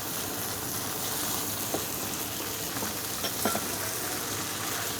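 Cumin paste and meat fry in a pan with a steady close sizzle, broken by a few soft clinks and stirring scrapes.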